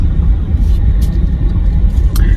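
A car driving away near Onway Mall, heard from inside as a loud, steady low rumble of road and engine noise, with a couple of faint brief clicks and no talking.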